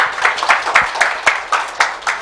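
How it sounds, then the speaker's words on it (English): A small audience at a talk on immersive learning games gives a round of applause, with a scattering of distinct, fairly close hand claps in an uneven rhythm rather than a dense roar. "Give them a round of applause, guys"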